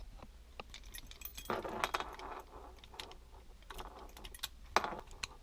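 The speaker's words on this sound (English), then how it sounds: "Next you're going to put your key in." A car key is inserted and turned in the ignition cylinder of a Pontiac Grand Am, giving soft metallic jangles and clicks in a quiet setting.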